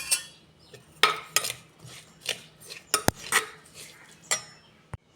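Spoon scraping and clinking against a metal pan while fish curry ingredients and a spoonful of coconut oil are mixed, a series of close, sharp clatters and rubbing scrapes with a couple of hard knocks, no talking.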